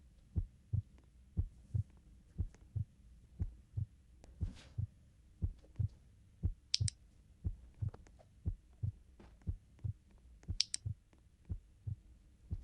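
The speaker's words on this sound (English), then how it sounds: "I realized I could hear sort of heart beating." Slow, steady heartbeat thumping near a tree in a video game, repeating as a muffled low double pulse roughly every half second, alone over faint ambient hiss with a couple of brief high chirps.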